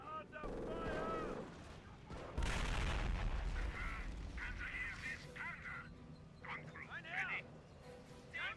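Mortar and gunfire in a World War II Blitzkrieg strategy game mod, a heavy low boom followed by ongoing rumbling battle noise, with voiced unit callouts throughout.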